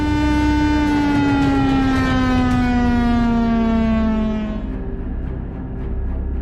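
An air-raid siren sounds for a civil defence mock drill, one loud sustained wail that slowly falls in pitch and then fades away.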